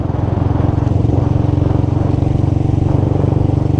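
A tuned Honda Twister motorcycle rides at steady, relaxed speed along a street, its engine putting out a loud, close, continuous pulsing drone with a fast regular beat and no clear revving.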